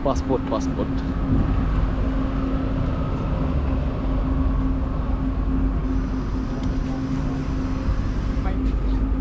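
Steady low rumble and rattle of a moving high-speed train carriage in Uzbekistan, continuous throughout, with a hum and faint voices in the background.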